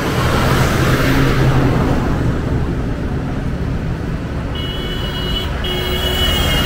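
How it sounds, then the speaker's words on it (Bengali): Steady roar of highway traffic streaming past a roadside tea stall in Comilla, a loud, continuous wash of car and engine noise with no break. "সেই আর আমার পাশেই হচ্ছে হাইওয়ে।"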